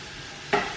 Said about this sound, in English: the chopped white onion goes in first into the frying pan with the olive oil